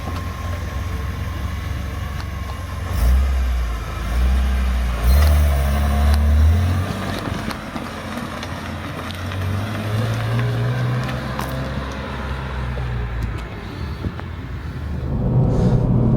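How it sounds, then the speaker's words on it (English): A BMW E46 M3 CSL with its S54 engine and big carbon airbox drives along, giving a steady low engine drone that swells and eases with throttle, heard from inside the car. "we're going to listen to this gorgeous S54 under here, and on the CSL it has a great big carbon airbox and it sounds incredible"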